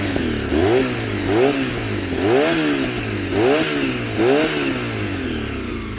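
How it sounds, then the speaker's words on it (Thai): A Honda VFR400 motorcycle engine revs up and down in about five quick bursts, with a mechanical clattering under the exhaust note, loud and close with no voices. "นี่เป็นไงเสียงกักกักกักกักกักกักเลย แต่เวลารอบสูงครับรอบสูงมันทำไม่มีเสียงนะ"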